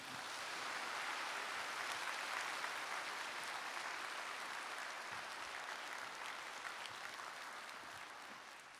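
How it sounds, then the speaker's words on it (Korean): A church congregation applauds in encouragement, a steady, dense wash of many hands clapping that holds for several seconds and fades slightly toward the end, with no voices over it. "큰 격려의 박수 부탁드리겠습니다"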